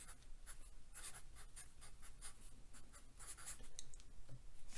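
A pen or marker writing a math equation by hand, giving a close, steady run of short scratchy strokes with brief pauses and no speech.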